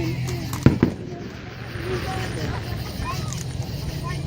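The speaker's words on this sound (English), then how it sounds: "They must have a lot of fireworks." Fireworks explode in a couple of sharp, close bangs early on, then a steady rumbling background of more distant bursts continues, with people talking throughout.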